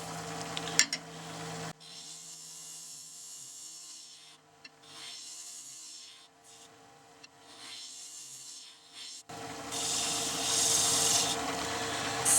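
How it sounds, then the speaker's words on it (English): A skew chisel's short corner, used like a negative rake scraper, scrapes a walnut box on a lathe, giving a steady, close rasping hiss that pauses briefly and grows louder and brighter near the end. "Now I'm going to use this short corner. I'm going to use it kind of like a negative rake scraper"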